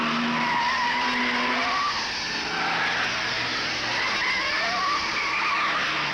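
Touring cars at the 1971 Bathurst race, among them Moffat's car, roar past with engines and screeching tyres, one continuous loud rush of racing noise.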